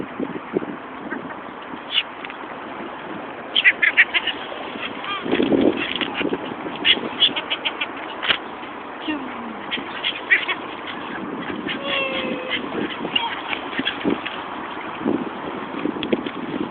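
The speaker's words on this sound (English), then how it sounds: "today I take you to feed some ducks, swan and birds, seagull" Ducks, swans and seagulls crowd in to be fed at the water's edge, a busy chorus of quacks, honks and gull calls rising and falling close by, with occasional faint talk in the background.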